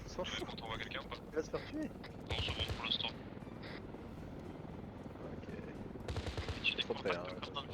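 Gunfire and cannon fire in the military shooter Arma 3, with bursts of shots around two and six seconds over a steady rumble like a helicopter, while players talk throughout.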